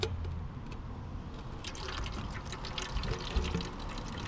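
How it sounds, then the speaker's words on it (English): Power steering fluid draining out of an engine during an engine fluid test, a steady liquid trickle and drip heard close up without speech. "let's go ahead and get the power steering fluid drained out of this thing"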